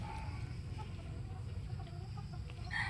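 A Dan Gray gamefowl rooster, about three or four years old, gives quiet scattered clucks in a farm pen, faint against a steady low background rumble.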